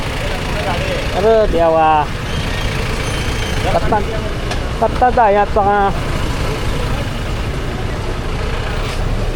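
Vehicles are jammed front and back on a narrow market road in Dapoli, their engines rumbling and idling steadily and close by, while someone speaks over the noise.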